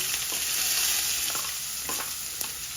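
Chopped onions for aloo bonda fry in hot oil with a continuous loud, close sizzle, broken by a few soft stirring clinks and no talking.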